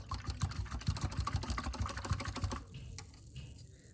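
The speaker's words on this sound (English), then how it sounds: "So I'm gonna wash out my brush really well." An acrylic paint brush is washed out in a water container, rapidly rattling and tapping against the sides in a quick, close, busy rhythm for about two and a half seconds before settling into softer, sparse sounds.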